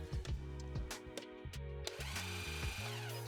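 VEVOR 5-ton electric car jack raising a vehicle at the pinch weld, a loud close motor whine that surges and dips with short pauses, heard alone.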